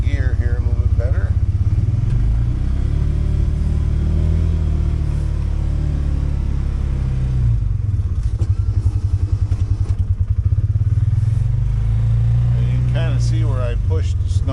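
Trail Rider 570 engine running steadily in low gear while plowing snow, a continuous low rumble close by with slight changes in load, no speech over it.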